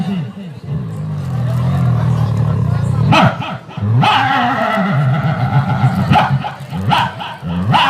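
A man imitates a dog's barking with his voice, giving a run of loud, close bark-like yelps in bursts amid crowd chatter and speech.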